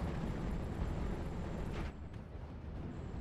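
Pack howitzer barrages and smoke rounds in a World War II combat video game land as a dense, continuous rumbling roar of distant blasts, loud and sustained, easing slightly near the end.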